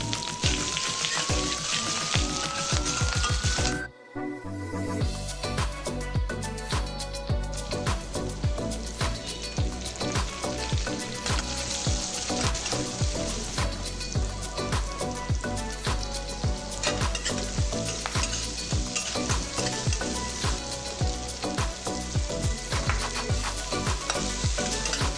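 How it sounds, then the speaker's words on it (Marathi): Tomato, onion, green chilli and curry leaves sauté in a cumin-and-mustard-seed tempering, sizzling with a steady crackling hiss and fine sputtering pops; a sharper sizzle opens before a brief dip as fresh ingredients go in, then continuous frying. "टोमॅटो परतून घेऊ"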